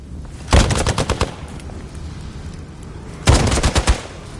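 Gunfire in Marvel Midnight Suns: two rapid bursts of automatic shots, one near the start and another about three seconds later, loud and close with a quieter gap between.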